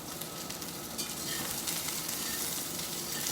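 Brussels sprouts and leeks frying in hot oil for a shrimp and vegetable noodle stir fry, a dense continuous crackling sizzle that grows slightly louder and brighter toward the end, close up with no voices.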